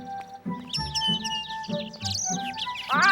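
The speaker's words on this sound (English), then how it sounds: "Oh, Papa, don't you just love the birds?" Cartoon birds chirp and tweet in a series of short, bright calls over light background music, fairly close and clear.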